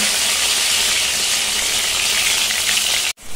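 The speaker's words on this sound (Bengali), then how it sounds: "এখানে দিয়ে দিয়েছি হচ্ছে আদা রসুন পেঁয়াজ টমেটো, অল্প করে অল্প তেলের মধ্যে করছি" Ginger, garlic, onion and tomato fry in a little oil, giving a loud, steady hiss of sizzling that holds throughout before cutting off abruptly near the end.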